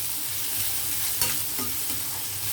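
Nuts roast and get stirred in a pan while rajma seed upma is being made, with a soft continuous sizzle and a few scraping stirs in the close foreground, and no talking.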